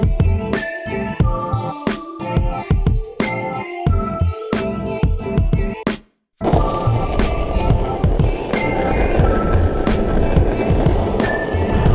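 A 30-inch Meepo Board V2P electric skateboard rolls steadily over pavement, its wheels clacking rhythmically over seams and cracks for about six seconds, then a brief dropout before continuous rumbling road noise and motor whine resume.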